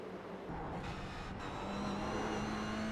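A race car lapping a track in a racing video game, a steady engine drone that climbs in pitch toward the end as the car accelerates, moderately quiet with no talk.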